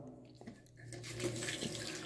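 A bathroom tap is turned on in a house under renovation, and the water rushes and splashes into a basin, growing louder after a few soft knocks, with no talking.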